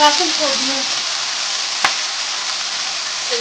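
Plov being stirred in a hot pan, a steady loud frying sizzle filling the whole stretch with one sharp scrape or clack of the utensil midway; no one speaks.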